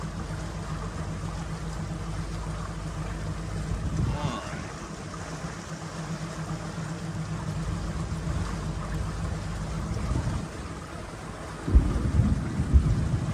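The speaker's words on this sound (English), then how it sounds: "You hear the thunderstorms booming in the background." Low rumbles of distant thunderstorms roll beneath steady wind and boat engine drone on the water near Hernando Beach, with a deeper boom swelling near the end.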